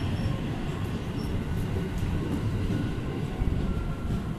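A steady low rumble of a train rolling into Nagoya station, wheels humming and the carriage droning evenly, with faint squeals, no voices.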